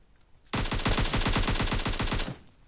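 A rapid, loud burst of MK14 rifle fire rattles out for nearly two seconds in a battle royale game, the shots evenly spaced and close, then cutting off abruptly.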